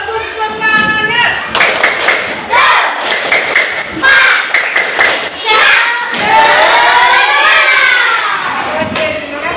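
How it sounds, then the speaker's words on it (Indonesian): A class of sixth-grade children performs a rhythmic spirit-clap cheer, with loud, patterned hand claps and thumps mixed with their chanting voices throughout. "Yuk, tepuk semangat."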